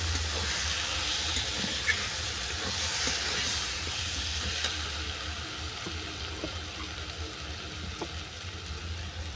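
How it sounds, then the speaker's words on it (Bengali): Gab leaves sauté in a pan with a steady, fairly soft hiss and sizzle that eases slightly over time, a few faint stirring taps scattered through it. "এরপর তুলে দিলাম জল ঝেড়ে রাখা গাব বাতা। এটাকে ভালো করে কষিয়ে নেব।"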